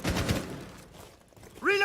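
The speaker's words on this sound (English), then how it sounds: "it is just a lot of explosions, a lot of shrapnel going back and forth" Utility explosions and flying shrapnel in Valorant: a quick cluster of sharp, gunfire-like bursts opens, fades into low rumble, then a bright metallic whining burst rises near the end.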